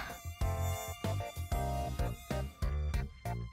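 Buzzing of a male mosquito: a whining insect drone heard up close, rising and dropping in loudness in short repeated surges, with no voices.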